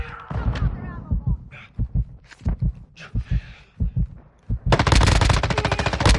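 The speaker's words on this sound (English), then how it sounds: "You are taking effective fire." Rapid bursts of gunfire strike the player in a squad-based shooter video game, loud sharp cracks in irregular clusters building to a dense sustained volley at the end, with brief game voice lines in between.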